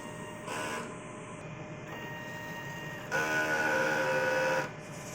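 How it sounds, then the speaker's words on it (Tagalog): An inkjet printer runs a normal-mode cleaning cycle, whirring and clicking in mechanical bursts, with a louder stretch of grinding motor noise near the end, fairly close and steady. "So after natin maon ng printer, so magki-cleaning po tayo."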